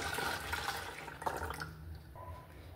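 Whole milk is poured into cake batter for a coconut cake, a soft liquid gurgle and splash that runs close by for a couple of seconds before trailing off.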